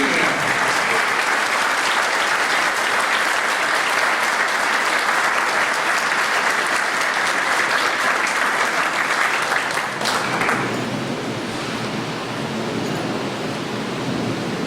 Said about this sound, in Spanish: yo quisiera el día de hoy fuertes aplausos para el doctor José Enrique Manucci y para el doctor César Nakazaki